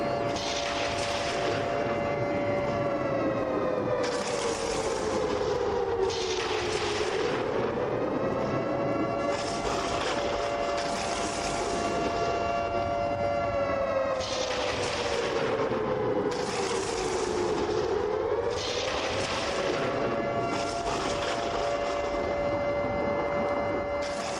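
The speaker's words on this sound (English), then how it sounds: "Let the siren play." A stadium siren at a football game follows a successful field-goal kick, wailing steadily with a pitch that swells and sags in slow repeating waves. It is loud and sustained, over the continuous roar of the crowd.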